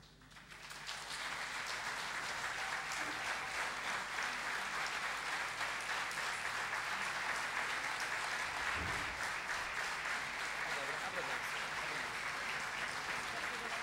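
Sustained audience applause at a Portuguese sword dance performance, a dense, even clapping that swells in quickly and holds steadily throughout.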